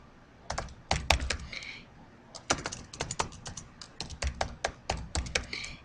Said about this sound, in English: And after you type that, hit enter twice